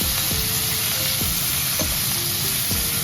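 Tomato and pasta fry in a pan, giving a steady loud sizzle with a few stirring scrapes and clinks scattered through, and no talking.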